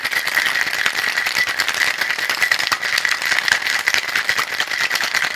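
A cocktail shaker holding a mocktail mixture is shaken hard and continuously, producing a loud, dense rattle of ice knocking inside for the whole stretch.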